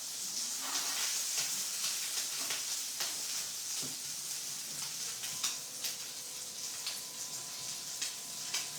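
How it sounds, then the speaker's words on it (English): Food sizzles and crackles in a hot pan, a constant bright hiss dotted with small pops, close and fairly quiet, with no talking. "it is sizzling really well, and it seems super hot"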